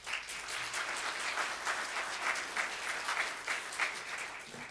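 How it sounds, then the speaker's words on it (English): Applause from the audience at a city employee awards ceremony, a moderately quiet, even wash of many hands clapping that holds steady for several seconds without talk. "Wasn't expecting applause."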